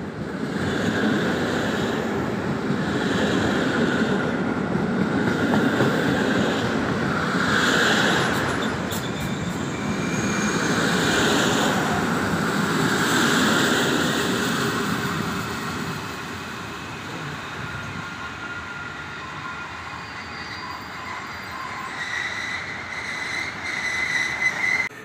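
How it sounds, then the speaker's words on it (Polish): An Intercity passenger train, the Chełmoński service from Świnoujście to Kraków Główny, rolls into a Polish station. A steady, loud rumble of wheels and cars runs throughout, easing slightly toward the end, with a brief squeal and no talk. "Wjeżdża pociąg Intercity Chełmoński w relacji Świnoujście Kraków Główny."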